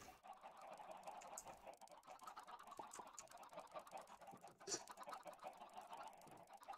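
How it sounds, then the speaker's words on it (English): Crowds of chickens in a Minecraft chicken farm give dense, overlapping clucks that sound faint and far back and continue nonstop with no talk. "Look at all those chickens!"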